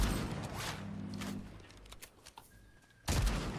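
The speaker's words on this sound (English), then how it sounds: "There is a lot of shooting." Bursts of gunfire from the battle royale video game Fortnite, a rapid volley early on, scattered shots in the middle and a loud blast near the end, all in game audio without talk.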